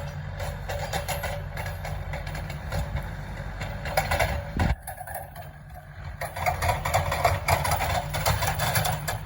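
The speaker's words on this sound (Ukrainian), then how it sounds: "Турбінка свистить то, що треба. Газує." A new Komatsu tractor's diesel engine idles and revs in an open field, its turbo whistling, with a brief sharp bump midway and louder revving toward the end.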